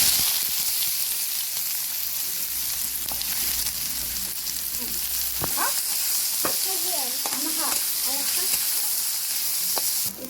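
Diced potatoes and onion frying in hot oil for an Assamese gram curry, a steady broadband sizzle throughout with scraping stirs and clinks of a spatula breaking in during the second half.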